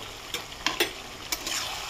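Duck meat frying in a covered pan gives a steady sizzle with a few sharp clicks and scrapes of stirring, nearby and moderately loud, with no talking.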